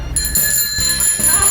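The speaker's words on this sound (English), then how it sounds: "Starting out, we have this niche bicycle bell." Bicycle bell used as a game show buzzer, rung in a quick series of bright metallic trills, close and clear.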